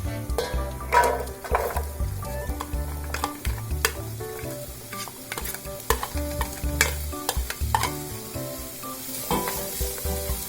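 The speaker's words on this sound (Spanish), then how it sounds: "En esta cacerola vamos a poner un poco de aceite. Vamos a vaciar nuestra cebolla." Chopped onion fries in oil in a pot with a steady, busy sizzle, stirred with frequent scrapes and clinks, close up and continuous without talk.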